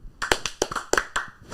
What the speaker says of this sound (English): He deserves 3 claps